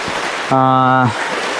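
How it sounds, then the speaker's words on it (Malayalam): Heavy rain pours in a steady, dense hiss throughout, with a voice briefly rising over it in the middle. "മഴ നല്ല മഴയുണ്ട്"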